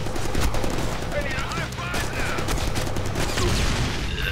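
Gunfire in the Deadpool video game crackles in rapid, sustained bursts like a fusillade, loud and dense throughout, with voices speaking over it.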